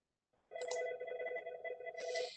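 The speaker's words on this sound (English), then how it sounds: "my phone is ringing" A phone rings out mid-lecture during a talk on dental, oral and craniofacial research, its steady electronic ringtone starting abruptly, sustained and loud, with a brighter burst near the end, and no voices over it.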